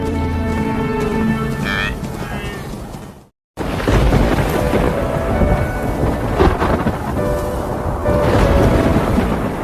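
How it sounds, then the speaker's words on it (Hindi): Heavy rain pours steadily while thunder rumbles and cracks, with a brief silent gap before the rainy-season storm resumes loud and close, during the wildebeest migration. "बारिश के मौसम में गरज भरे तूफान लगभग रोज ही आते रहते हैं"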